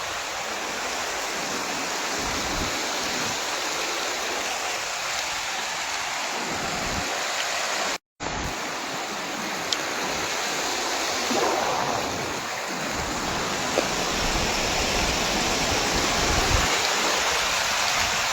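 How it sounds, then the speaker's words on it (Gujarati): Water from an overflowing lake rushing in a steady, loud broadband roar that continues almost unbroken, with a brief cut midway and no voices. "આ તો વધી ગયું બહુ ઝાઝું પાણી વધી ગયું."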